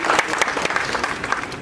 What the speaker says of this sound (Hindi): जोरदार तालियों की गूंज